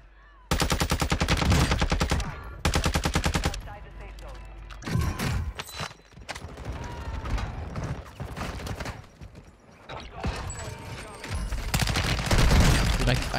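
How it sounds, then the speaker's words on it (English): An RPK machine gun fires in Warzone 2 on Ashika Island, coming as loud rapid bursts of automatic gunfire that start and stop several times. Players talk over and between the shots. "I hear an RPK."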